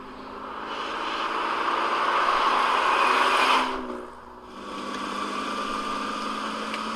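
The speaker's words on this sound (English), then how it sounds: "He goes into the garage, gets into the car, starts the engine, and drives off." An Aston Martin DB6, a grandfather's old car parked in a garage, runs with a steady engine drone that dips briefly before settling back into a continuous idle, close and fairly loud.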